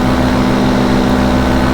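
A paramotor engine runs steadily with a Vittorazi propeller, a constant droning hum with strong low tonal bands held evenly throughout, close and loud with no voices.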